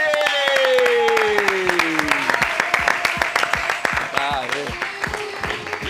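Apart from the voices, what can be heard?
studio audience applause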